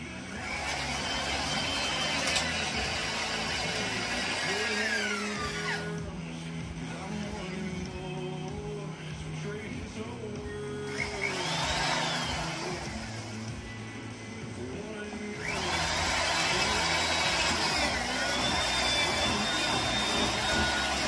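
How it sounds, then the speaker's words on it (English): A power drill drills out rivets on a Ski-Doo Gen 4 snowmobile tunnel, whining in bursts, spinning up and winding down several times with a steady motor drone underneath, fairly close and loud. "right now I'm piloting with a smaller drill bit"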